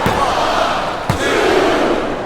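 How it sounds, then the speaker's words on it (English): A wrestling arena crowd in WWE Smackdown vs RAW 2007 roars steadily through a women's ironman match, broken by two sharp thuds of bodies hitting the mat. "The crowd is coming alive"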